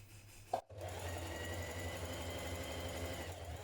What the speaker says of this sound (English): At this point we're going to stitch the seam of our flounce.